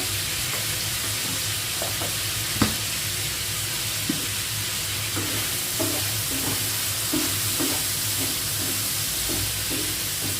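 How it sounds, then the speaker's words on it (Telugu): Prawns frying in a pan for biryani give a steady, close sizzle throughout, with occasional clinks and scrapes of a spatula stirring them. "ప్రాన్స్ ఇట్లా ఫ్రై అవుతున్నప్పుడు వీటికి సరిపడా కొంచెం సాల్ట్ అయితే వేసుకోవాలండి"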